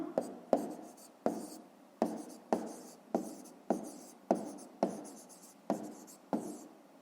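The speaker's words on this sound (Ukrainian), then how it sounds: "давайте запишемо як правильно" Pen writing by hand on paper while working a Grade 5 maths exercise, heard as a steady series of short scratching strokes with regular sharp onsets, close and clear, with no talking over it.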